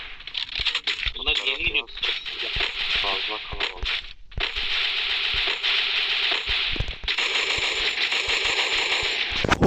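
Bursts of automatic gunfire and rapid shots in a battle royale video game, sharp repeated cracks and rattling volleys, with excited voices talking over the action.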